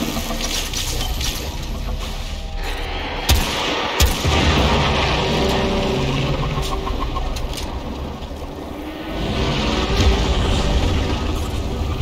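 Explosion in the Warframe game: a dense, loud roar of rumbling blasts and crackling debris with sharp bursts, sustained throughout and swelling again near the end.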